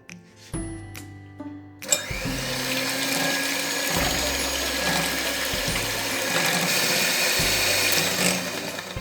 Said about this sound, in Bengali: আমি হাত দিয়ে এটা বিট করব না, আমি মেশিন দিয়ে বিটার দিয়ে এটা বিট করে নেব।